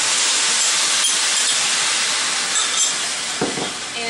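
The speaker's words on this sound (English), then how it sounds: "this is basically going to steam it" Water and chicken base poured into a hot pan of brussels sprouts, giving a loud, continuous broadband sizzle and steam hiss that holds steady throughout, with a few faint clinks near the end.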